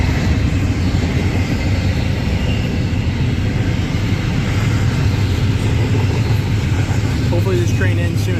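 Union Pacific freight train, a manifest led by rebuilt Dash 9 locomotive UP 9650, rumbling loudly and continuously nearby as wheels roll past, with people talking over it.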